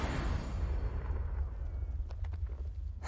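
A Confringo blasting spell explodes in the Hogwarts Legacy video game, a loud, dense, rumbling boom that fills the first half and then settles into a lower roar with a few sharp crackling bursts near the end.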